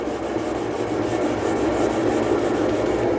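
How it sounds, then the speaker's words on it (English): Sandpaper rubs with firm local pressure over the high spots of lacquer on a subwoofer box, a continuous loud scratchy hiss with a faint repeating stroke rhythm and no voices. "Just getting in locally and sanding the high spots off with"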